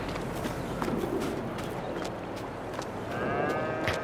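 Dairy cows in the Farming Simulator 22 video game, repeated low moos over a steady farmyard background with shuffling hoof and footstep sounds and no talking.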